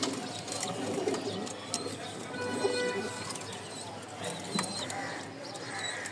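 Pigeons at a pigeon seller's stall in Mirpur give a few low, soft coos amid a busy background of chatter and general stall noise.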